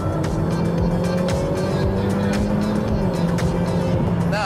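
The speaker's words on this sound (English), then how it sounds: "So if I need to change down before the overtake, listen, straight away." A Ferrari F8 Tributo engine blares loud and close, its pitch stepping on a downshift and then climbing steadily under hard acceleration during an overtake, with a sharp rising whine at the very end.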